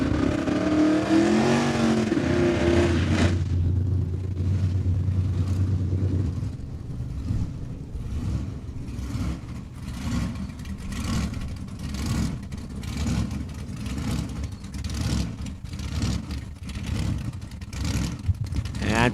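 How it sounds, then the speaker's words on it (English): A 1941 Willys Coupe drag car roars off the line at Saskatchewan International Raceway, its loud engine note building steadily as it accelerates down the track, heard at a distance over crowd and ambient noise. "watching how that Willys is going to go down the track"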